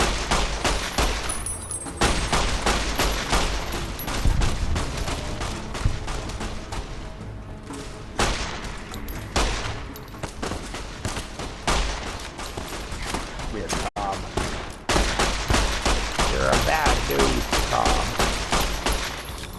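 Rapid, dense gunfire from the video game Fallout New Vegas rattles almost continuously, loud bursts of shots and thuds with brief lulls, while a player talks over parts of it.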